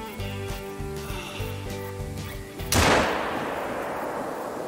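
A single loud 7mm hunting rifle shot in The Hunter: Call of the Wild cracks out over a musical background, followed by a long rolling echo that slowly fades.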